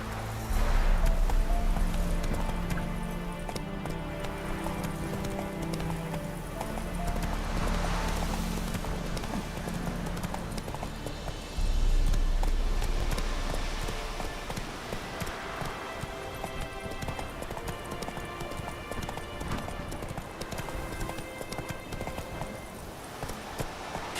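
Roach the horse gallops across open country in The Witcher 3, steady rapid hoofbeats drumming close and loud over a dense bed of game music and ambience, with a brief snort or whinny.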